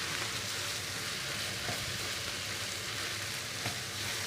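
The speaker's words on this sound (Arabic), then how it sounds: "هقلب بقى الجزر مع اللحمه كويس" Grated carrot and minced meat fry in a pan, giving a steady, dense sizzle with faint stirring scrapes running underneath, close and continuous with no voices.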